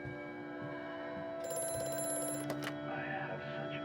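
A telephone rings in the horror video game Amnesia: A Machine for Pigs, a shrill electronic trill bursting out for about a second over a low droning ambient hum, then a sharp clatter.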